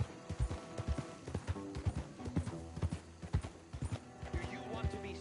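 Horse hooves clip-clop in steady rhythm in the Red Dead outlaw western video game, close and clear, with a brief whinny and a voice speaking over the hoofbeats.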